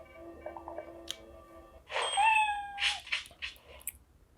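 A cat meow sound effect from a lightsaber's built-in sounds plays a few times, starting with soft short calls and then a louder, drawn-out meow followed by quicker ones, with no talking.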